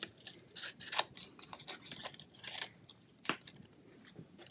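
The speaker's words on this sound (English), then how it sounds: "then I'm going to come in with my paper snips" Paper snips cutting card stock while trimming a stamped craft piece, a string of soft crisp snips and crunches, close and quiet, irregularly spaced.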